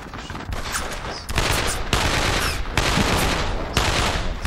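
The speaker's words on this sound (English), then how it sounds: "Assault rifle." Assault rifle fire rattles in the World War II shooter Brothers in Arms: dense overlapping bursts of automatic gunfire that repeat loudly and almost without pause, with no voices.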